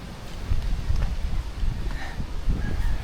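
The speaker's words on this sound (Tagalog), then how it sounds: "Lakas po ng hangin, sana naririnig" Strong wind buffets the microphone by a riverside, a steady low rumble with gusts swelling and easing throughout, faint rustling above it.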